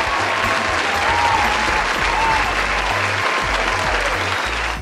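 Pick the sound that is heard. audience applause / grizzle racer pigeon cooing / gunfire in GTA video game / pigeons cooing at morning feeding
audience applause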